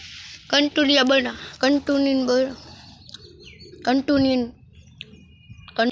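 Pigeons at a riverbank while being fed, their calls coming in several short bursts close by, with quiet gaps between them and no talking.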